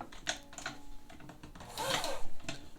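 A vintage Necchi sewing machine runs in short, uneven stitching bursts, close and moderately loud, with a louder busier stretch near the end.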